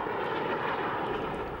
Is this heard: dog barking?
no